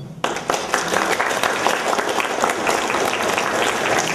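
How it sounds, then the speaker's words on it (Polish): Applause at a youth chess tournament prize ceremony, a crowd of hands clapping briskly and continuously after a brief quiet start, fairly loud and close. "To jest brawa dla Grzesio."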